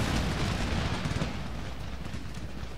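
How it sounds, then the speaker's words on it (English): Musket gunfire over a wall during a battle in Empire Total War, a dense rumbling barrage of overlapping shots and booms, loud at first and easing into a steady low roll, with no talk. "You're somehow shooting over the wall."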